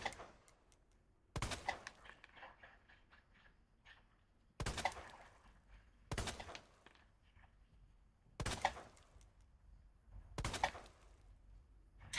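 Five sharp, separate gunshots from Resident Evil 2 (2019), spaced a couple of seconds apart with near silence between them and faint game sounds after each shot.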